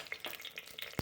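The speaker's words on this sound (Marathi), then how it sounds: "तेजपत्ता धुतला होता ना, कसा आवाज येतो बघा, तडतड तडतड पाण्यामुळं." Washed bay leaves hit hot oil and crackle and spatter in quick, faint pops and hisses, a short sizzling burst from the pan with no talking.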